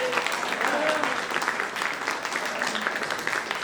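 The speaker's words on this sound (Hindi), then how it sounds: "लेकिन आपने ताली बजा दिया" An audience applauds at a Sangeet night wedding celebration, a dense, sustained wash of clapping held at steady loudness throughout, with a few voices faintly underneath.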